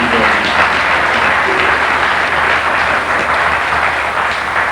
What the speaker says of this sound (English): Give Dr. Felder a round of applause.